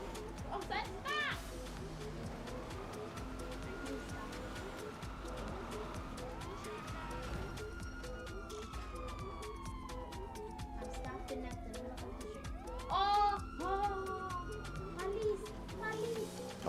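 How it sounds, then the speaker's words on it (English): A police car siren wails in rising and falling sweeps in the background of a live stream of a Ravens versus Packers American football game, steady throughout under people talking and broadcast commentary. "did you hear the police car?"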